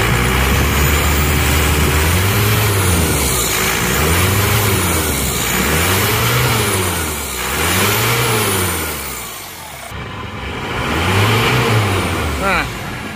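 A car engine is revved repeatedly with the throttle in a rising and falling rhythm, about five swells across the clip, loud and close, while a diagnosis of an engine that keeps bogging down continues. A voice runs over it.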